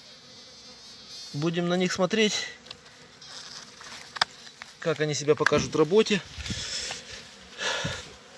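Buckfast honey bees hum in a hive split, in bursts of close, droning buzz that rise and fall while someone talks between them.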